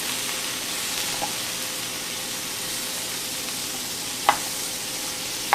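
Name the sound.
butter and onions sizzling in a frying pan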